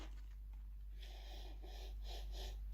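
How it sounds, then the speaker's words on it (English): Short nasal sniffs at a tub of Nuclear Pump pre-workout powder, several quick close breaths drawn in through the nose over a low steady background hum. "let's just give it a quick little sniff"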